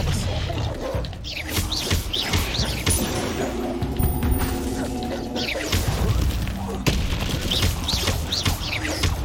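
Spells fire and strike during a Hogwarts Legacy battle arena fight, with bursts, impacts and crashing effects layered over game music and the player's voice calling out spells.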